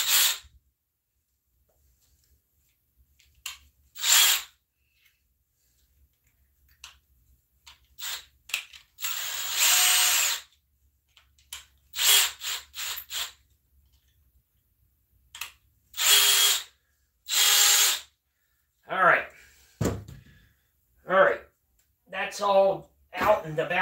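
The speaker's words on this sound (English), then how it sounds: "So now I just gotta figure out where the drill is." A power drill bores into a clay bonsai pot in short bursts of whirring, starting and stopping repeatedly with pauses between, close by, while a person talks in between runs.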